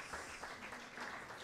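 A crowd applauds with dense, steady clapping throughout, fairly distant and uniform.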